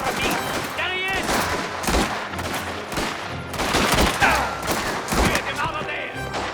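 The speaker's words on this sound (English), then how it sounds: "Gunshots!" Gunfire in the video game Mafia The Old Country: loud, dense bursts of rapid shots and fusillades fill the whole stretch, with shouted voices mixed in among the shooting.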